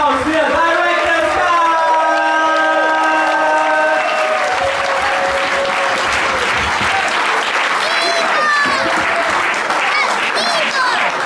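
Loud crowd applause and cheering at a breakdance battle, continuous clapping with whoops and shouts, close and full throughout.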